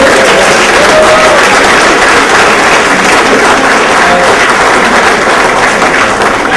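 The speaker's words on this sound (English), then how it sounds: "Please give a great round of applause for our members." Loud, dense applause fills the room for members at a public reading of the United States Constitution, continuous and unbroken for the whole stretch without any voices.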